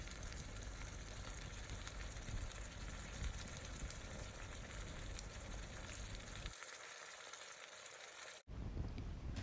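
Beans, carrots and other vegetables for a vegetable pulav sizzle steadily in a pan with a dense hiss. It quiets near the end, cuts out briefly, then resumes.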